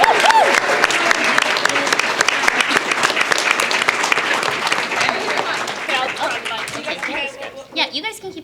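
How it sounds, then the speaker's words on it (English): Crowd at a fan convention voice acting panel gives a sustained round of applause, loud steady clapping mixed with cheering voices, thinning toward the end as talk resumes. "Give them a round of applause."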